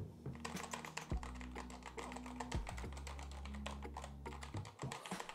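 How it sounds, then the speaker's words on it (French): Fast, continuous clacking of keys on a white mechanical keyboard with red switches, typed up close in a steady rhythm over a low hum in the background. "ce type de clavier, franchement, pour du traitement de texte, c'est vraiment un pur plaisir"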